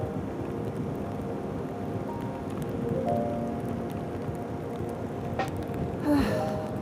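Steady rain falling around a motorcycle rider on a pine-lined road, a dense continuous hiss with wind noise and low rumble throughout, slightly swelling near the end.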